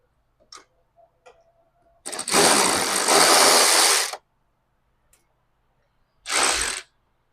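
A ratchet loosening tight bolts on the radiator of a Kawasaki KRX 1000 UTV: a couple of faint clicks, then a loud two-second buzzing ratchet run, silence, and a shorter burst near the end.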